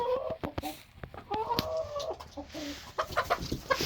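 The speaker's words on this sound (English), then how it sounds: "We got a hen fight." Hens squabble in a farmyard, clucking and squawking in agitated bursts close by, with scuffling and flapping mixed in.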